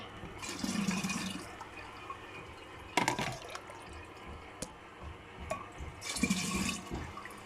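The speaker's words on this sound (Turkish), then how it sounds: "ikinci kez süzmüş oldum" Homemade hawthorn vinegar is poured and strained through a sieve, making soft splashing and trickling liquid sounds in a few uneven bursts, with faint drips and clinks in between.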